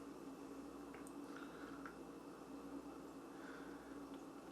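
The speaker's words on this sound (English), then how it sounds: "Let's pour the rest in here." Beer poured into a glass, giving a steady foamy hiss of liquid and fizz that runs evenly for the whole stretch with no voices.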